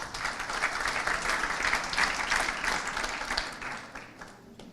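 Dense, steady applause from a conference audience at a national accreditation congress, filling the room evenly and close, holding at a constant level before tapering off at the end.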